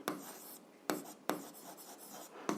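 A pen writes on paper while working an algebra exercise. Close, quiet scratching comes in short strokes separated by sharp taps of the pen, with no voices.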